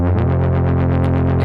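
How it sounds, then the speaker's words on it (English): A Moog Subsequent 25 synthesizer holds a thick, buzzing distorted tone with its LFO rate set high, giving a fast steady wobble across the short sustained sound. "set the LFO rate quite high"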